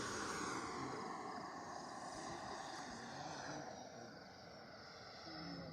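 An E-flite Viper 90mm EDF RC jet with afterburners makes a slow flyby, its ducted fan a steady, faint, broad whoosh that fades slightly partway through.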